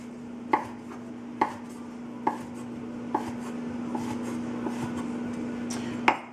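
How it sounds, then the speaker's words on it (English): A knife chops ham into small cubes on a board: sharp, evenly spaced thuds about once a second, seven in all, over a faint steady hum. "Now we're gonna start to cut our ham. I like to cut in small medium cubes."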